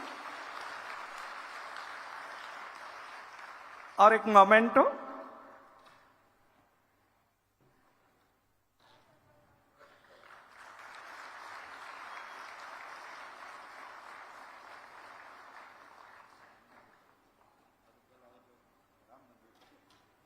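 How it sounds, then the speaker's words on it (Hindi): Audience clapping at a corporate dealers' meet and felicitation ceremony, a sustained wash of applause at the start and a second long round later, broken by a brief loud burst of talk over a microphone. "हाथ ऊपर करके एक बार जोरदार ताली दीजिए"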